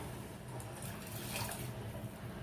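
Basmati rice poured into a pot of boiling water gives a steady, close wash of hissing, bubbling water noise with no talk.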